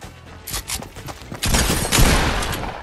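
Bursts of video game gunfire, with scattered shots early and then a dense, loud fusillade of overlapping rapid shots.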